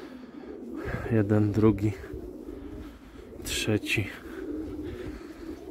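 Homing pigeons coo in a few soft bursts as they are let out of the loft, heard over a voice counting aloud nearby.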